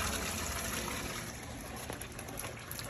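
Water from a full-blast roof water test leaks and splashes in a continuous, fairly quiet hiss. The stream sounds steady and close, with no talk over it.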